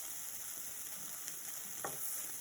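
A sandwich sizzles steadily in a hot pan after being flipped, a constant close frying hiss with faint crackles and a brief scrape partway through.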